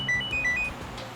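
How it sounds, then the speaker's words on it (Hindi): A short electronic ringtone plays a few alternating high beeping tones, moderately close with a quiet background. "फोन की घंटी बज रही है"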